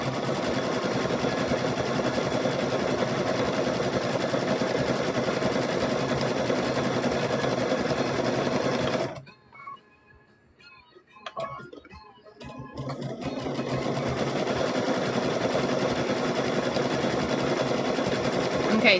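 A sewing machine runs steadily while quilt squares are stitched closed, a continuous close whir that stops briefly near the middle before resuming, with a voice talking over it.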